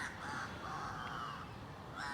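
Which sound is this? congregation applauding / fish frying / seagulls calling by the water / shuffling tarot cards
seagulls calling by the water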